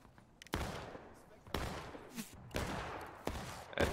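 Musket gunfire in the War of Rights video game, four or five sharp cracks spaced about a second apart with dull echoing tails, at moderate distance, under quiet talk.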